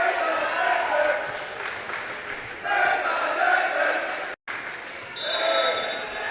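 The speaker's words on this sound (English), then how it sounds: "They've got quite a vocal cheering section for the students here at Neillsville." Student cheering section yelling and roaring at a girls high school volleyball match in a gym, a broad sustained crowd noise in waves with a short break near the end, plus ball bounces.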